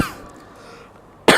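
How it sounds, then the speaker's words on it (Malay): A single sharp cough from a man giving a religious lecture indoors, coming abruptly near the end after a moment of quiet room tone. "Saya batuk sikit."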